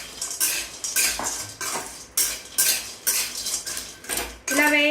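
Dry fruits roasting in a pan on a stove for ragi laddu, stirred with a utensil that scrapes and clatters against the metal in repeated bursts, loud and close, ending in a brief tonal ring.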